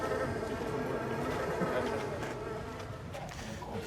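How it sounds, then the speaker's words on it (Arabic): Bees buzz steadily around beehive boxes at an outdoor wildlife park, a continuous low droning hum, moderately loud and close, with no talk over it. "وانت ماشي كده هتلاقي هنا صناديق نحل"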